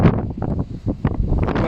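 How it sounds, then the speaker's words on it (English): Strong wind buffets the microphone in gusts at a hill fort car park viewpoint on a showery day, a steady low rumble rising and falling without pause. "The weather's, I don't know if you can hear it, but it's pretty windy."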